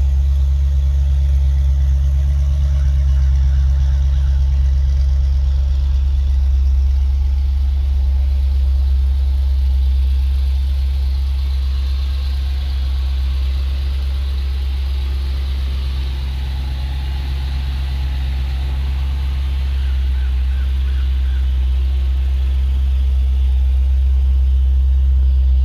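A 2010 Dodge Challenger SRT8's 6.1 liter Hemi V8 idling for a long stretch, a loud, constant deep rumble that dips slightly midway and then steadies again, with no talking.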